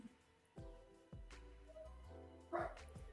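Dogs bark at a house while someone paints outside, a few sharp separate barks spaced about half a second apart, then a higher yip with a whine, all fairly quiet, with no talking.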